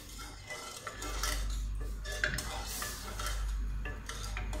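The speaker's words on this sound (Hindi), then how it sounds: "फ्लेम आप मीडियम पर रखें और इस तरीके से इसे स्टर करते रहना है।" A spoon stirs sugar syrup in a pan over a medium flame while making a bread dessert, giving soft repeated scraping and clinking strokes against the metal with a faint low hum beneath, close and quiet.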